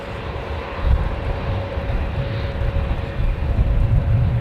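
A JetBlue airliner takes off from runway 09 with a loud, continuous jet engine roar that rumbles steadily without fading, heard alone with no speech.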